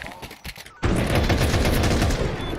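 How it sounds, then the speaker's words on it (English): Rapid gunfire from a Counter-Strike match in a tournament broadcast: a few scattered shots, then a dense, loud, sustained burst of automatic fire filling the rest. "A good shot from Westmelon."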